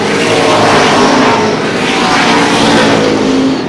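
Race cars circling Lee Speedway in New Hampshire, a loud continuous roar of several engines with swelling and fading passes, dense and unbroken throughout.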